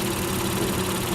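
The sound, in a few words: Earth Dreams V6 3500cc car engine idling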